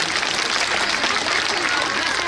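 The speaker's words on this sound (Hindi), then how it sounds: "एक बार इन सभी बच्चों के लिए जोरदार तालियां आप लोग प्लीज बजा दीजिए" An audience claps for children after a Navdurga stage play, making a dense, continuous wash of applause that runs throughout with voices mixed in.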